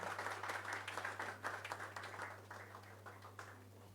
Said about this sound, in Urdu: آپ لوگ تالیاں بجاتے رہیں